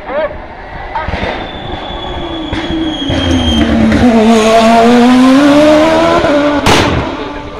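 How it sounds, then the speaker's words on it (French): Nova Proto MP1 turbo race car charging up the Bagnols-Sabran hill climb, loud and close, its engine note sweeping up and then falling away as it passes, with a sharp burst near the end. "c'est le moteur turbo."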